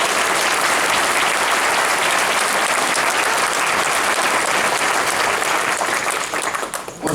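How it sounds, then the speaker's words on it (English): Audience at a school band concert gives sponsors a loud, sustained round of applause, dense and steady throughout and thinning slightly near the end. "Let's give all of these sponsors and friends a round of applause."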